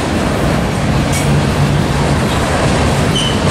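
A freight train rolls past at Tehachapi, a steady broadband rumble with faint wheel clatter and a brief high squeal, close and continuous for the whole stretch.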